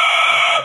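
A brief, high, strained screech, a single short squealing call that fades at the end, a person imitating a bald eagle.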